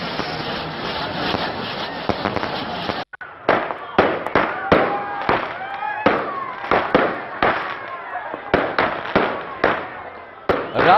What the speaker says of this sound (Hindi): रात के वक्त शानदार आतिशबाजी के बाद आसमान रोशन हो गया।